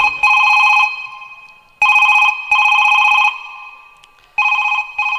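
A telephone bell rings loudly in repeated bursts, a couple of long rings followed by shorter ones, with brief pauses between.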